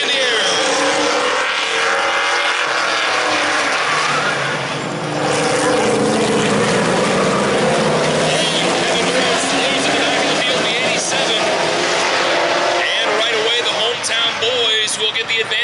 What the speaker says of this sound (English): The very first Auto World Maritime Sportsman Series heat race gets underway.